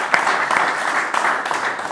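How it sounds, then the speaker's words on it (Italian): A studio audience applauding on an Italian football talk show: steady, dense clapping, fairly loud and close, filling the whole short stretch without any talk over it. "Parte l'applauso."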